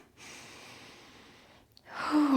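A long, slow breath during a yoga boat pose, a soft airy exhale that fades to quiet before a louder breath begins near the end, with no talking.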